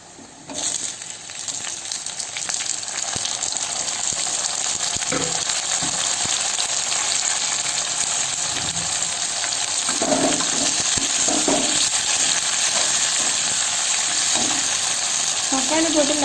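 Chopped tomatoes going into a hot pan for chana masala sandwich filling, giving a steady, fairly loud sizzle and frying hiss throughout, with a few brief stirring knocks.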